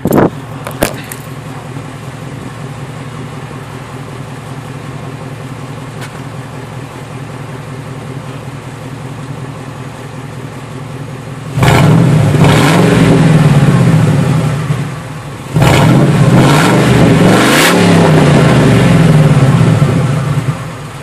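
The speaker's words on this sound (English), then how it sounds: "Start it up, do a couple revs just so you can hear it." A Ford F-150's 5.4 V8 with no muffler and dumped exhaust idles with a steady low rumble, then is revved hard twice, each rev loud, raspy and close before dropping back.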